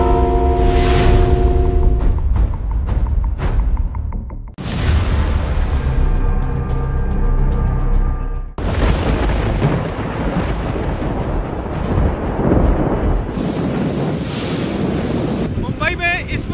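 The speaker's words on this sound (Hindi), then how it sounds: "मुंबई में इस वक्त बड़ी ही तेज हवाएं चल रही हैं।" Strong cyclone winds from Cyclone Nisarga at Nariman Point, south Mumbai, roar loudly and continuously as broadband gusting noise buffets the microphone, with surf-like rushing throughout and some tonal background sound early on.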